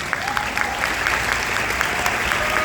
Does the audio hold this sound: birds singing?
no